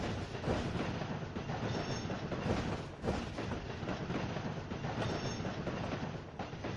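Train in the video game Trainz 2019 rolling over a rail diamond crossing, a steady rumble with rhythmic clickety-clack wheel beats and faint squeals, moderately quiet and continuous.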